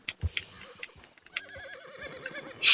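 A horse in Red Dead Redemption 2 whinnies in a rising, wavering call near the middle of the clip, with a few hoof thuds and clops around it and a sharp burst at the end.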